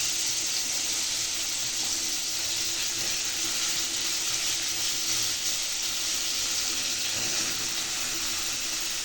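Ridge gourd fries in a pan with a steady, loud sizzling hiss that continues evenly from start to finish, with no talking.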